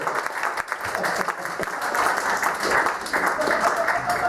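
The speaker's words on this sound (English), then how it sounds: "give a round of applause, ladies and gentlemen" A comedy show audience claps and applauds continuously, a dense wash of hand claps filling the room with some voices mixed in.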